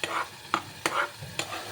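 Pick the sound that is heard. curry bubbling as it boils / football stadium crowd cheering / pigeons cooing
curry bubbling as it boils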